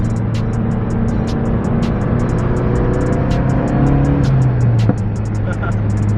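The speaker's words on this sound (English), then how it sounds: "I actually fully straight piped this car. So now it's a lot more loud" Droning exhaust of a fully straight-piped Mazdaspeed3 while driving, a loud low rumble with shifting engine tones and repeated high ticking chirps above, while a voice talks over it.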